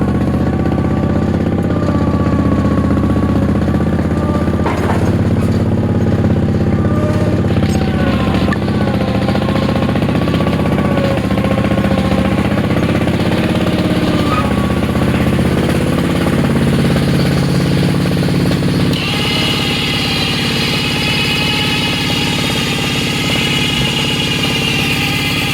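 Two Sears lawn tractor engines run steadily and loudly up close, a continuous rough mechanical drone with a tonal shift partway through, no talking.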